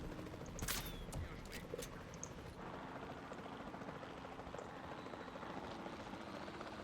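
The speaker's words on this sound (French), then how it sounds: "L'hélico voulait pas avancer." Helicopter in the Jurassic World Evolution 2 management game, a steady rotor drone with a few sharp clicks and bursts early on, constant at moderate level throughout.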